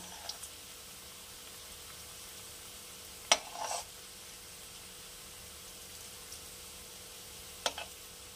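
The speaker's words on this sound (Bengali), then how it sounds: "এইভাবে লো ফ্লেমে, লো হিটে হালকা করে সোনালি করে এগুলোকে ভেজে তুলে নিতে হবে" Vegetable chops fry gently in oil over a low flame, a soft continuous sizzle heard close but quiet, broken by two brief sharp clinks of a utensil against the pan.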